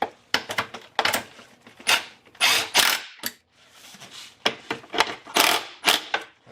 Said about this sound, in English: I'm just going to tighten it up using the impact.